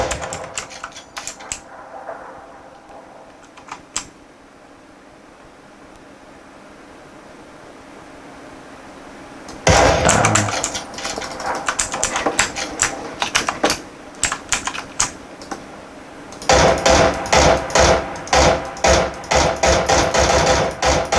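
Gunfire in the video game PUBG (Battlegrounds), rapid bursts of automatic shots in two loud stretches separated by quieter game ambience, with a few isolated shots earlier.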